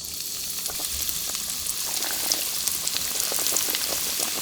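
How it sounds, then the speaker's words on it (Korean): Battered sweet potatoes deep-frying in hot oil at about 170–180°C over high heat, a dense, steady sizzle with crackling pops throughout, close and fairly loud with no talking. "170에서 180 정도 넣고 튀길 거예요"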